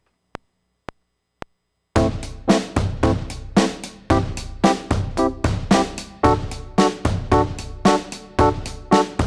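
Keyboard chord progression in Dorian mode; three faint ticks, then a steady run of struck chords, each ringing briefly before the next, close and clear with no voices.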